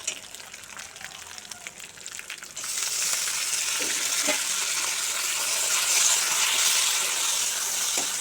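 Tomatoes hit a hot pan for Bombay chutney and burst into a loud, bright sizzle that swells and holds steady, after a quieter stretch of low frying.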